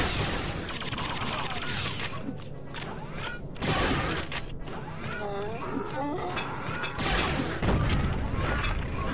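Turret gunfire in the Duke Forces video game at a demolition plant, rapid bursts of shots and metallic impacts running throughout, with someone talking over the shooting.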